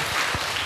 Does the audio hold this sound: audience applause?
yes